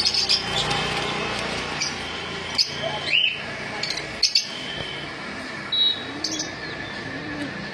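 Caged white cockatiels and lovebirds for sale chirp in short, high, scattered calls, some sharper tweets standing out over a steady background hum, with no clear talk.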